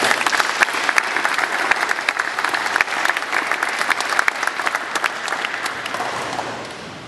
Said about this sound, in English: So let's give a round of applause to Aaron Redpath.